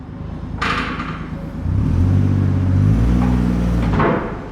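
Mazda Eunos Cosmo with a 20B three-rotor rotary engine on a dyno, a short burst of revving that settles into a sustained loud engine drone before dropping off, with clunks in between.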